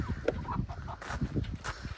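Farm chickens cluck softly nearby in a short, scattered series of low calls over faint background noise.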